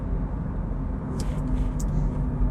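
A Volvo V60 estate, a 2016 pre-facelift model, cruises steadily with a low, even engine and road rumble heard from inside the cabin, with faint wind and tyre noise.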